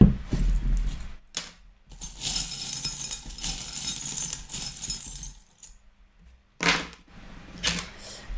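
Small metal charms jangle and clink as they are handled and tossed for a card reading, bright chinking bursts in several rounds separated by brief pauses, close and fairly clear.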